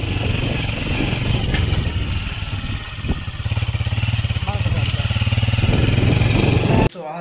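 Motorcycle engine running close by on a ride to a petrol pump store, a steady mid-pitched chugging that revs and dips, with occasional voices over it before a sudden cut.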